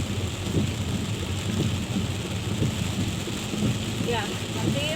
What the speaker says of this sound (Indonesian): Aduh, gede amat hujannya ya.